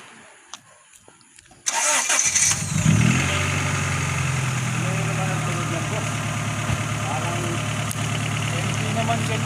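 A car only a week old cranks and its engine catches, then settles into a steady, loud, close idle with a low rumble, and the owner talks over it.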